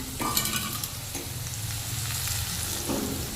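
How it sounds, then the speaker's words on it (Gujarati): Bajra flatbread being tempered with mustard seeds, cumin, asafoetida and onion sizzles steadily in hot oil, with a stirring scrape at the start and again near the end, close and continuous. "બાજરીનો રોટલો વઘારું. રાઈ, જીરું, હિંગ, ડુંગળી."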